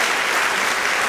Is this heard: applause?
yes